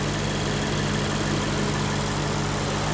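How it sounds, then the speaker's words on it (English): A 2018 Lexus GS F's 5-liter V8 idling close by, a steady loud continuous rumble with no voices. "V8 engine."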